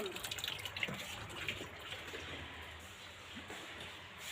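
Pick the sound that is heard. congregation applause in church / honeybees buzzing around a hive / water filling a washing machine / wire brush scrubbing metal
water filling a washing machine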